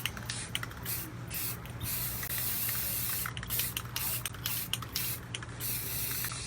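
General Finishes gel stain being sprayed onto a furniture piece laid flat: a continuous hissing spray with brief pauses and restarts, close and steady throughout.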